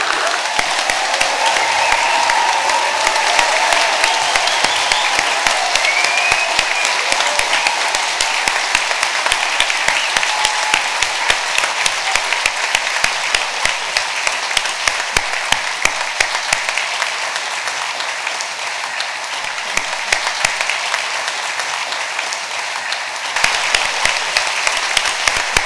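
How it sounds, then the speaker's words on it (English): A large audience at a degree ceremony in Harrogate applauds standing graduates with loud, sustained clapping that fills the hall for the whole span, holding its intensity with occasional sharper claps and faint whoops. "let's give them a kick-off round of amazing applause."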